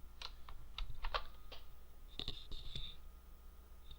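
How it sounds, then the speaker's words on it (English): Keys on a computer keyboard being pressed as a CTRL-ALT-DELETE combination for a warm boot of an IBM Model 30 MCGA PC, heard as a handful of close, quiet clicks spread unevenly over a few seconds, with no talking. "I'm going to try just a warm boot by the CTRL-ALT-DELETE key"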